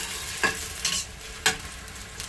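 Onions stirred as they fry lightly in oil in a pot, a soft steady sizzle broken by a few brief scraping stirs of a spoon, close and fairly quiet with no talking.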